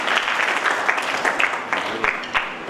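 An audience at a rally against drugs and alcohol, TS PSYCON 2024, breaks into steady, dense applause that fills the space at close range, with faint voices mixed underneath.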